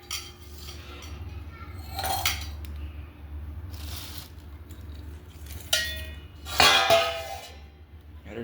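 A large plate is handled among dishes, giving several ceramic clinks and clatters, with a louder rattle near the end over a low steady background hum.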